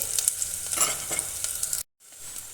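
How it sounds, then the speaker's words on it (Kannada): A spoon stirs garlic frying in oil for veg manchow soup, giving a soft sizzle broken by scraping strokes, then a brief drop to silence before the frying resumes. "ಸ್ವಲ್ಪ ಈ ಥರ ಒಂದು ಚಮಚ ತೊಗೊಂಡು ತಿರುಕೋಬೇಕು"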